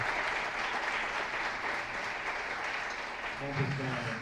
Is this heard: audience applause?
yes